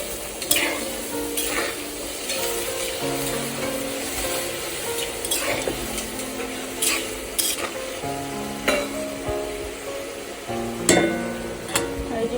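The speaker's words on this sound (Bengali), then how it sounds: "বেগুনগুলো দিয়ে ভালো করে নাড়াচাড়া করতে হবে।" Eggplant pieces stirred in a hot pan for a tangra fish curry with potatoes, a steady sizzle broken by repeated scraping and clanking of the spatula against the pan, close and fairly loud, with no talking.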